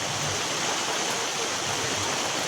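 Heavy rain pours steadily around a village home, a dense, continuous hiss of falling water with no breaks.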